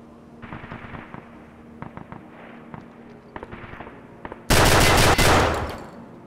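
Gunfire in the video game Escape from Tarkov: scattered single shots and short bursts echo at moderate distance, then a sudden, very loud sustained burst of close automatic fire erupts near the end, with no talking.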